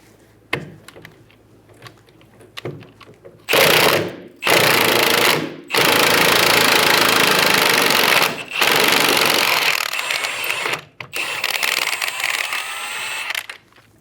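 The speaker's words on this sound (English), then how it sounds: "Using a 15mm socket, we're going to remove the bolt." Impact wrench with a 15mm socket removing a rear control arm bolt on a 2000-2007 Ford Focus, loud close hammering rattles in several long bursts separated by short gaps, after a few faint clicks.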